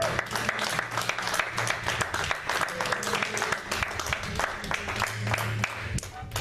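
Church congregation applauding and cheering during a French-language sermon, a steady wash of clapping with scattered voices filling the whole stretch.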